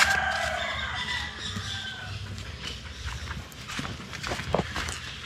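Roosters crow loudly in an outdoor tropical village setting near Puerto Vallarta, Mexico, with a few calls over general background noise and faint hoof clip-clop from horses.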